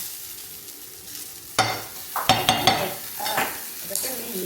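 Spiced food frying in a pan at home during Ramadan, stirred with a series of loud scraping, clattering strokes over a constant sizzle, close by and without talk.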